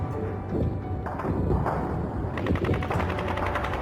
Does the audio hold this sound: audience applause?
no